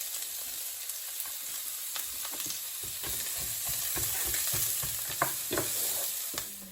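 A sofrito of onions, peppers and tomatoes frying in a pan, giving a continuous close sizzle with soft scraping stir strokes throughout and no talk.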